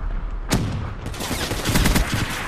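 Gunfire in Call of Duty Black Ops 3 multiplayer: a sharp loud shot followed by a dense, rapid burst of automatic fire, close and continuous.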